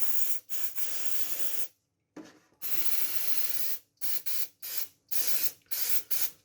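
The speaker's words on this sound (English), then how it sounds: "Spray the slots. And the chips." Aerosol spray hisses in repeated bursts over the slots and chips of an IBM ThinkCentre M50-8188 computer during a restoration, from an old can. Long close sprays alternate with short rapid squirts and brief pauses.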